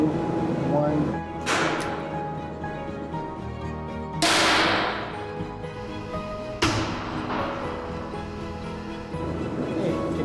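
A shock compression lab gun fires in a shockwave experiment, giving three sharp, loud broadband bangs spaced a few seconds apart, each with a quick decay over a steady background hum.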